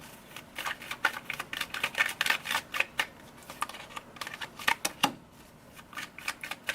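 Tarot cards being pulled and laid out make a run of quick, close, crisp card snaps and slides, clustered in bursts with short pauses between them, and no voice.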